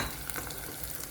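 Ginger garlic paste fries in hot oil for kandagadda pulusu, giving a brief, steady, faint sizzle with light bubbling crackle and no talking.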